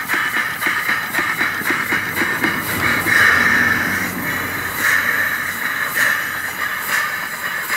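An 1840s–1850s live steam engine on a steel base with a hardwood frame runs close by, with a rapid steady chuffing and hissing rhythm and a brief squeal that repeats a few times, with no talking.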